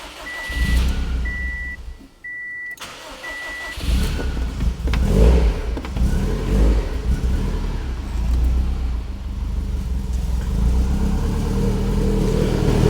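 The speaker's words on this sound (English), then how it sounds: "Let's see how good a true cold start on this thing is." A fully built Subaru STi engine on its base map fires up from cold: a few short warning beeps, then the engine catches and settles into a loud, steady, rough idle that fills the rest of the clip.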